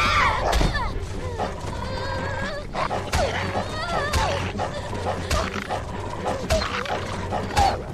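A dog in The Walking Dead game yelps and whimpers in rising, wavering cries mixed with sharp short barks and thumps, close and agitated, with voices speaking underneath.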